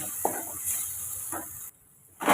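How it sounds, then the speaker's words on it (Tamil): Ground masala paste sautéing in a pan for a kofta curry, a soft steady sizzle with occasional stirring scrapes, fairly close and alone, dropping briefly near the end before the frying noise returns. "இப்போ நம்ம அரைச்ச பேஸ்ட்டையும் நம்ம சேர்த்துக்கலாம் இப்போ ஒரு ஒரு நிமிஷம் நம்ம வதக்கி எடுத்துக்கோங்க"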